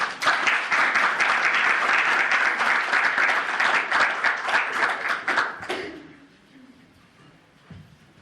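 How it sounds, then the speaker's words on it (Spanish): An audience gives a warm welcome to a speaker at a talk, with dense, sustained applause lasting about six seconds before it fades into quiet. "démosle un aplauso por favor."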